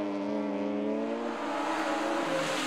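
A grey BMW drift car holds a loud, sustained engine rev at high RPM with a steady droning tone and a slight dip midway, heard close and alone at a French drift championship round in Chamrousse.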